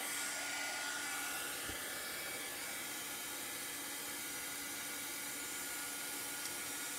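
Steady rushing whoosh of a handheld heat tool blowing on chalk paste ink on a square canvas pillow cover, continuous and close with a faint knock early on.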